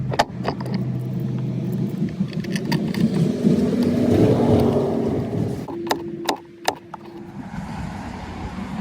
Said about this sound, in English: Let it run for a little while, start to circulate through the engine.